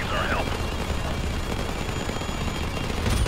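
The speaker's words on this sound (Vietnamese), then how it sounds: "Khi bắn chúng ta phải để ý nhiệt độ của cây súng nha." Heavy sustained gunfire rattles in rapid bursts in Call of Duty 4 Remastered, loud and dense throughout, with someone talking over it.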